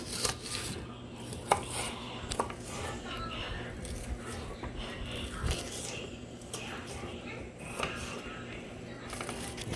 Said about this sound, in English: Then we're going to cut up some onion.